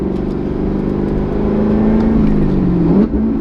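A Corvette ZR1 pulling away in first gear, a loud, close engine drone that rises steadily in pitch, then drops briefly near the end before settling, with no talk over it.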